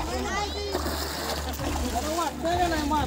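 People walking through knee-deep water make repeated sloshing splashes, with voices talking over the steady churn of the water.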